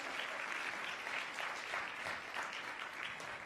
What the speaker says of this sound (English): Let's give a big round of applause to FIU